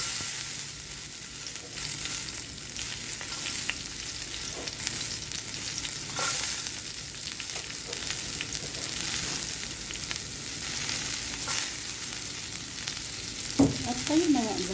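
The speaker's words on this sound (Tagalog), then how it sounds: "Natapos ko din yung pagprito ko ng tokwa." Tofu frying in olive oil in a small pot gives a steady, close sizzle that lasts throughout, with occasional stirring clinks and a brief scrape near the end.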